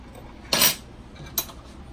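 A utensil clinks and scrapes against a bowl while cinnamon, vanilla and granulated sugar are mixed for stuffed French toast, two brief bright metallic strokes, the first longer and louder.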